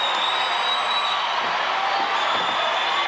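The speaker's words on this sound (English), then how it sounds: "Let's have a big round of applause for Tony Hawk." Crowd at a 1988 skateboard competition applauding and cheering Tony Hawk after a vert run; a continuous, fairly loud wash of clapping and cheers heard alone, without speech.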